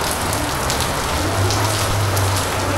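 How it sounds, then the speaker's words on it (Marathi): A torrential Konkan monsoon downpour roars in a constant, close wash of falling water, with individual drops spattering hard on nearby surfaces and a low rumble running beneath the hiss; no one speaks. "आणि असा तुफानी पाऊस होतो बघा"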